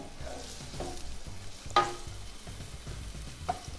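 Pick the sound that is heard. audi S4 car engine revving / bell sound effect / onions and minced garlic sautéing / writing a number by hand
onions and minced garlic sautéing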